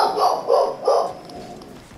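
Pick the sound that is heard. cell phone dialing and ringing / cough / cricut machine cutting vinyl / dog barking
dog barking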